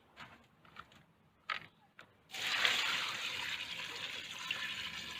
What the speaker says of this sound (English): Now what I'm going to do is I'm going to add water to this.